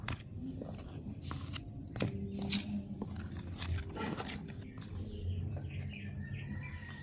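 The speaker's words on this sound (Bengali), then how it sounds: "ময়দাটাকে ভালো করে মিশিয়ে নিলাম।" Flour hand-mixed in a bowl with carom seeds and chopped dried chilli, giving soft scraping and crunchy rubbing sounds in close, irregular strokes with a few sharper clicks.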